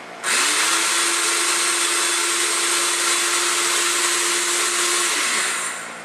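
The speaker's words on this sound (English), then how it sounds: "That sound shows the motor is rotating." Cuisinart mini food processor motor spins up, runs as a loud, steady, high-pitched whine for about five seconds, then winds down, heard up close with no talk.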